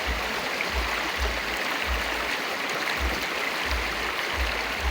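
Steady broadband rush of cold shower water running, continuous and fairly close, with a faint low rhythmic thumping underneath.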